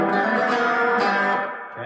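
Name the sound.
electric guitar playing a rhythm lick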